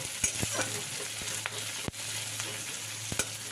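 Two medium onions, chopped fairly coarse, fry in hot oil in a pan with a soft, constant sizzle broken by a few sharp clicks of a spoon against the pan.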